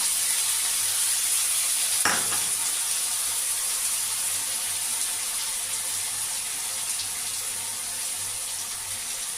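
A paste of green chilli, ginger, garlic and onion fries in oil with a constant close hiss and a single sharp spatter or scrape early on.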